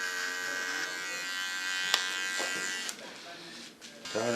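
Electric hair clippers buzz steadily while trimming a woman's short haircut, close and continuous. Brief pauses and shifts in pitch mark passes through the hair, and a voice speaks over it.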